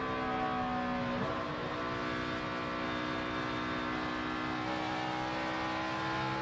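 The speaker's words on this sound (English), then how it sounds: "You can hear how they really have to feather the throttle even with good tires on these" NASCAR Sprint Cup stock cars race at Kansas, a loud, continuous multi-engine roar with throttle feathered through the flat corners, engine pitch wavering and rising as cars pass close by.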